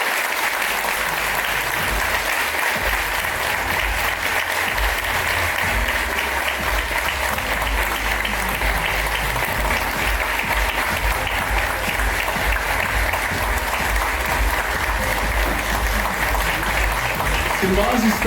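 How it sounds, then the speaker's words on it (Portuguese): Audience applause for three professors on stage after an Austrian School economics panel, a dense, steady clapping that fills the room at close range, rising slightly toward the end. "vamos todos de pé dar uma salva de palmas para esses grandes professores"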